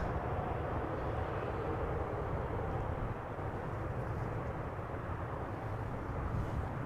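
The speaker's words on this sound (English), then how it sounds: "Next up ITA Airways, the special livery arriving from Milan. A320, flight 120." An ITA Airways Airbus A320 in special livery arriving at Amsterdam Schiphol, its engines giving a steady broadband roar and low rumble that holds at an even level throughout, fairly distant and with no voices.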